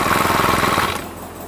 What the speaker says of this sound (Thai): วางไว้บนบ่าแล้วดึงเชือกสตาร์ทได้เลยครับ นะฮะสตาร์ติดง่าย